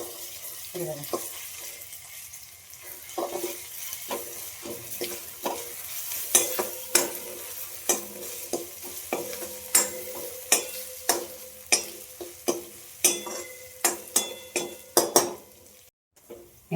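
A homemade masala paste fries in a pan for Punjabi-style kadhi, giving a low sizzle under a long run of repeated sharp scraping and tapping stirs that grow louder and more regular, with faint voice at times.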